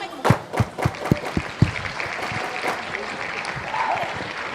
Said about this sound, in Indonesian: tepuk tangan terakhir untuk para pemenang